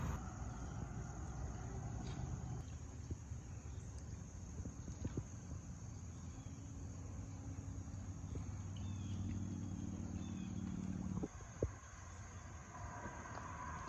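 Steady low rumble of road traffic crossing near a bridge on a rainy day, a continuous distant wash of passing vehicles with no speech.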